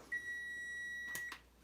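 A kitchen oven timer gives one long steady electronic beep, then two short clicks, fairly close in a quiet room.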